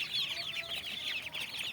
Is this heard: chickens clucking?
yes